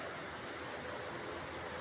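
Broadband rushing of river water flowing steadily at an outdoor event site, a constant even wash with no voices over it.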